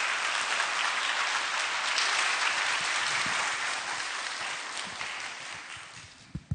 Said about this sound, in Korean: 우리 나오실 때 힘찬 박수로 환영하시겠습니다.